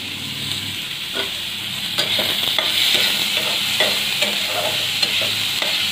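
Onion and garlic fry in a pan, giving a steady close sizzle, with intermittent scraping and clicking as the pieces are stirred.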